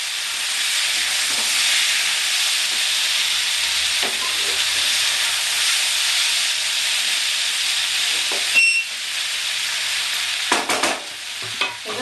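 Kochur loti (taro stolons) and shrimp sizzle steadily in a pan, with a continuous frying hiss and intermittent scraping of a spoon as the mixture is stirred, growing more clattery near the end.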